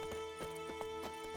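Roach, Geralt's horse in the video game The Witcher 3, arriving at a trot, with quick, soft hoof clip-clops in a steady rhythm over a faint musical drone.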